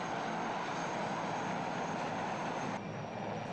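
Steady, loud engine and rotor roar from military helicopters during an airmobile demonstration with infantry, a continuous wash of noise with no speech.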